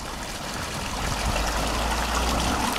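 Water flows steadily in a landscaped garden with limestone walling and ferns, a continuous close rushing trickle that grows slightly louder partway through, with no voices.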